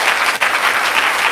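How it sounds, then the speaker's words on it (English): Loud, dense audience applause for debate speakers, continuous clapping with a brief dip partway through. "shall we give a round of applause for our speakers?"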